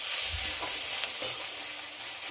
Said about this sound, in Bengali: পেঁয়াজের সঙ্গে আদা রসুনটাকে খুব ভালো করে কষিয়ে নিতে হবে।